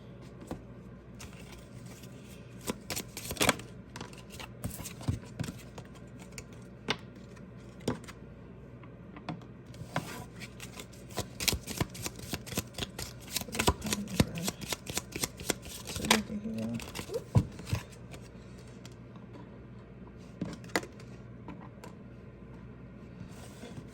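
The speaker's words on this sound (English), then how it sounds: "And then I started shuffling, and I was like, oh, these are the wrong cards." Tarot cards are shuffled by hand in repeated riffling bursts, close and crisp, with soft pauses between rounds and a quiet voice talking now and then.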